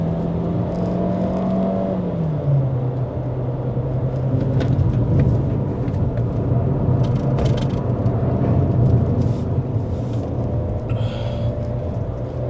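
A Chery Tiggo Cross engine on a climbing mountain road after a downshift, steady loud cabin drone with the revs dropping then holding, plus road rumble and faint clicks inside the car, no talking.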